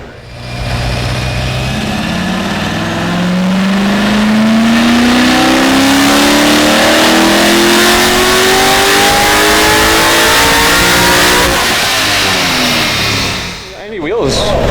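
A 700 hp LS7 V8 in a Monte Carlo SS revs on a chassis dyno, roaring loud and close as the pitch climbs steadily through a long pull, then drops off near the end.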